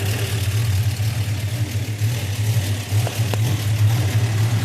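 A rebuilt car engine idling steadily with its headers separate from the intake manifold, a close, even low rumble with a constant mid-range hum and no revving.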